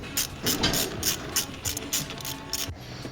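Ratchet wrench tightening bolts on the petrol injector rail of a 2004 Audi TT, a rapid close clicking in quick repeated bursts, about a dozen strokes, with no talk.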